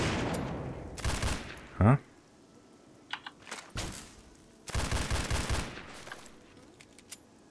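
Gunfire in the video game Fallout 3: several sharp, loud shots and short bursts spaced across the clip with game noise between them, while a voice briefly speaks.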